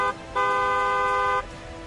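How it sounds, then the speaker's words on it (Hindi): A car horn gives one steady, sustained blast of about a second, loud and close, with faint background noise before and after. "सावधान करने के लिए हॉर्न बजाएं"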